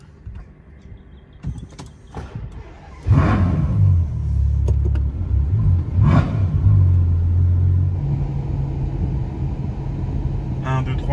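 A 690-horsepower Ferrari makes a launch start. The engine idles low, then surges into a loud rev at about three seconds, bursts again briefly, and settles into a strong, close, droning rumble.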